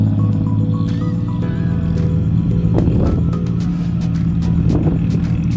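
A Mitsubishi Fuso turbo dump truck with a 10-speed gearbox idles close by in a loud, steady diesel rumble, with a faint turbo whine and occasional mechanical clanks over it.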